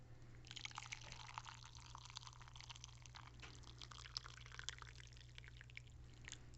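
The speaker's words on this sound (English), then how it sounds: "Dump hot water" Hot water pours into a mug over a mint tea bag, a soft, quiet trickle that runs steadily for several seconds with faint splashes and no talking.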